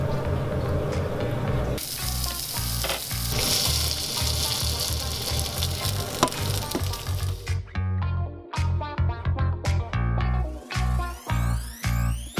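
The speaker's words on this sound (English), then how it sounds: "You don't need any oil when you're frying your chorizo because there's a bit of fat in it." Chorizo fries in a dry pan with no oil, giving a steady close sizzle that later breaks into scattered crackling pops and spits.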